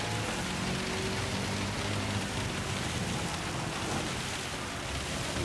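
Heavy rain pours steadily in the Gran Turismo 7 racing game, a dense continuous hiss of wet spray with a faint low engine tone underneath, no talking.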